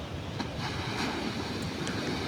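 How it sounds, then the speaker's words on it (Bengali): Ocean waves breaking on the beach at Fuvahmulah, Maldives: a soft, steady wash of surf with faint wind, distant and low in level, no voices. "দেখতে পাচ্ছেন কত সুন্দর ঢেউগুলো আসছে।"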